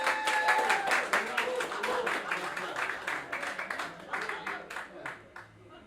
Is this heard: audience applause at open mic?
yes